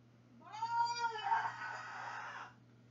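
A single drawn-out, rising and falling cat meow, fairly close and clear, over a faint steady background hum indoors.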